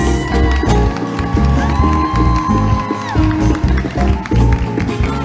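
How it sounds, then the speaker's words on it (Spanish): An audience claps, whoops and cheers for a second-place winner at a children's and teens' Christmas song festival, loud and lively, with music playing underneath. "Con vuestro fuerte aplauso, segundo lugar, Gisien Martínez."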